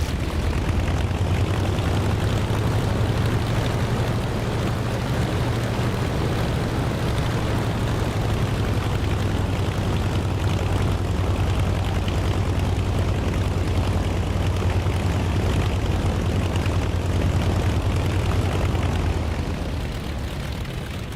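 Propeller aircraft engine drones loud and steady through a takeoff in the DCS flight simulator game, a deep, constant roar that holds for about twenty seconds and eases slightly at the very end, with no talk.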